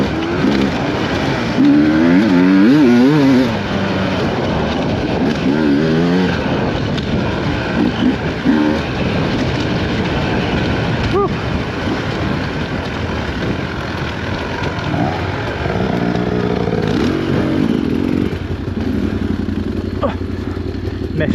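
A Beta X-Trainer dirt bike revs and bogs while a beginner rides through ruts, engine warbling near then farther off under bursts of shouted coaching.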